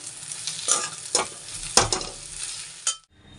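Four packets of Maggi noodles being stirred in a frying pan, with a steady sizzle broken by several scraping stir strokes, close and clear, ending abruptly.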